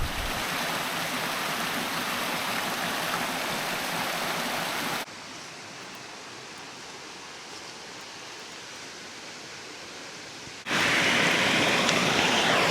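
A waterfall cascading near the Camino Primitivo path roars as a steady broadband rush that is loud and close at first, drops to a softer, more distant wash midway and then swells loud again.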